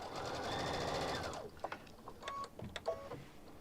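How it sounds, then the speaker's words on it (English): A sewing machine back stitches a quarter-inch fabric seam, first whirring at a steady run, then slowing to brief stop-start bursts and clicks, close and alone. "And I'm just back stitching."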